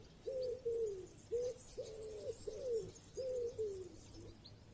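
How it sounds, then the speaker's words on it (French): Pigeons or doves cooing outdoors in fine weather: a steady series of about seven low, rounded coos in a slow rhythm, with faint birdsong chirping above. "Appréciez le chant des oiseaux"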